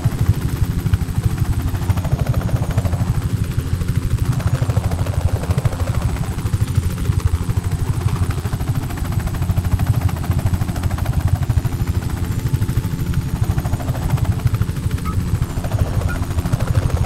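A helicopter in the video game Just Cause 3 attacks, its engine drone and rotor chop loud and continuous, swelling and fading slightly as it circles nearby.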